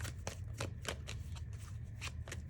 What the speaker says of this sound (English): but I'm going to keep shuffling